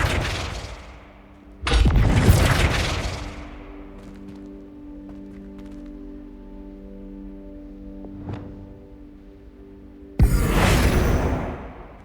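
A Flipendo spell cast in Hogwarts Legacy: a loud burst of whooshing magical impact that fades into a low steady hum, followed by a small ping and another loud whooshing blast near the end, with no talk.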